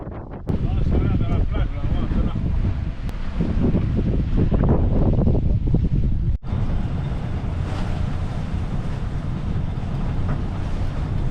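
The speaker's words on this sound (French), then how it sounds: "Comme il y a quand même pas mal de vent." Strong wind buffets a sailboat at anchor off Bequia, rushing gusts and microphone wind noise over lapping water, with people talking in French underneath.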